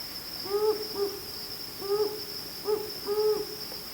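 Two owls, a male and a slightly higher-pitched female, hoot in a duet: short paired and repeated hoots alternating over a quiet background with a steady insect-like tone.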